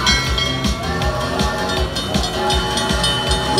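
A rolling train sound effect from a Monopoly-themed slot machine game, with a loud, steady rhythmic clickety-clack and tonal layers running throughout, up close.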